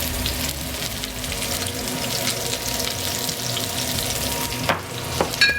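Food sizzles steadily in a hot pan on high heat, a dense, loud hiss with a few sharp pops near the end.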